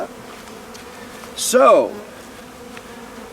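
Honeybees buzzing around a hive during a bee installation outdoors, a brief louder swell of buzzing passing close by over a steady low hum, with a short spoken word near the start.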